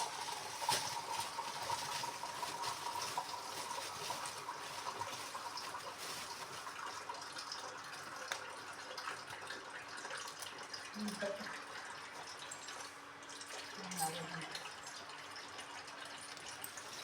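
Water added to a cooking pot of curry with green chillies and tamarind, a soft continuous pouring and trickling heard fairly close, with faint clinks and low background sounds.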